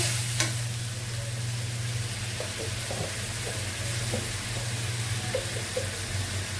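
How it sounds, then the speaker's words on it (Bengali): Spice masala stir-frying in a pan gives a steady, close hiss of sizzling oil. A few faint scrapes and light clinks sit beneath it, and nobody speaks. "মশলা কষাই নেব।"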